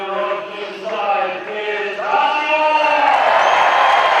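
A speedway crowd greets a rider introduced at a Poole Pirates Elite League meeting, with shouts and whoops over a stadium PA that swell into a broad, loud cheer in the second half.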